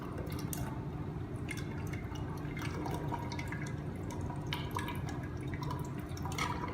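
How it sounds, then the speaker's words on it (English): Water squirted from a distilled water bottle to rinse soil residue into a graduated cylinder, a steady trickling splash with scattered drips throughout. "we want to take a distilled water bottle and wash out all residue"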